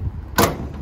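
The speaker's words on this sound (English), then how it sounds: "shut that door." A door on a 2018 Isuzu D-Max SX Hi-Ride ute is shut once, giving a single solid thud that stands out against quiet background hum.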